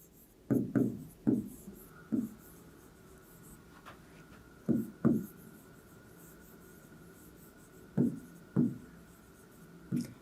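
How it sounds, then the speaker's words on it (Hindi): A pen scratches on paper while a maths problem is worked out, in short clustered bursts of writing separated by quiet pauses, close and crisp. "तो लिखेंगे एरिया पेंटेड बाय रुखसार"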